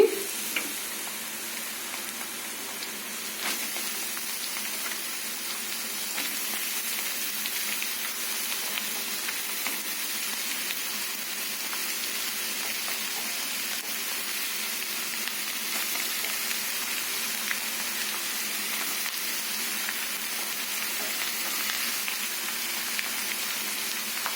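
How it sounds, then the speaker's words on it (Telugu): Chopped ridge gourd pieces frying in a pan give a steady, even sizzle that carries on alone for a long stretch. "ఈ విధంగా మగ్గాక మనం ముందుగా కట్ చేసి పెట్టుకుని బీరకాయ ముక్కలు వేసుకుందామండి."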